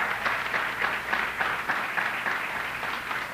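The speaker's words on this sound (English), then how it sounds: "Let's give ourselves a round of applause." Audience at a Garifuna heritage celebration in Brooklyn claps together in a dense, roomy burst of applause that keeps going at an even level the whole time.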